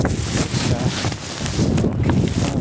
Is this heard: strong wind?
yes